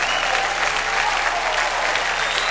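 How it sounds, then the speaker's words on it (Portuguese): Church congregation applauding during a worship service, a dense, sustained wash of clapping from many hands that stays steady and fairly loud throughout. "Vamos dar uma salva de palmas para Jesus."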